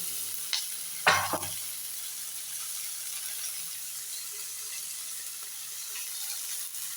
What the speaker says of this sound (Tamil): உப்பு சேர்த்திங்கன்னா அந்த வெங்காயம் பச்சை மிளகாலாம் சீக்கிரம் உங்களுக்கு வதங்கி